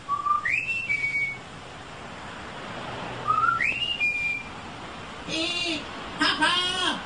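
A voice in a German children's audio play imitates a loud two-finger whistle with two rising whistles, followed by shouted speech.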